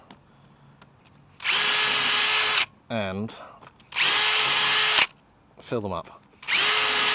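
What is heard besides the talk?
power drill drilling out old fixings on a boat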